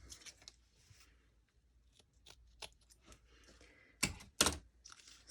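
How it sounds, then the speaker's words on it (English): Scissors snipping paper during a collage craft session, quiet scattered cuts and rustles with a couple of louder crisp snips near the end. "Uh-oh. Scissors. There they are."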